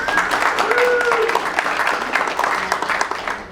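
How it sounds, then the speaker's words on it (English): Applause from a conference session audience for a sponsor, a dense clapping wash heard close and fairly loud, with voices and a few tonal sounds mixed in before it tapers off at the end. "so give them a round of applause."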